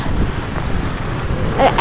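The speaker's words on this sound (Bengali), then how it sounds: "হাওয়াটা একদম চিল কোল্ড, মানে আনবিলিভেবল।" Cold wind blows across the microphone at the Khardung La pass viewpoint, a high-altitude road pass. A continuous low rumble of buffeting lasts the whole moment, with no speech over it.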